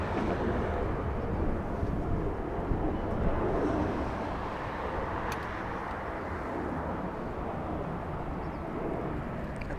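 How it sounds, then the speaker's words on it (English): Boeing 787 Dreamliner departing runway 25 right at LAX bound for Tokyo Narita, a broad, steady jet roar over the whole stretch with wind noise, heard from a distance, no voices. "Dreamliner flying to Tokyo Narita, south side departure, runway 25 right"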